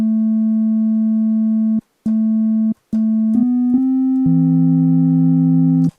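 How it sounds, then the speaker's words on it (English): Bitwig FM-4 synth operators playing plain sine waves at middle C, a pure steady tone struck several times with short silent gaps before shifting to slightly different pitches. "separate sine waves. So if you hit the middle C"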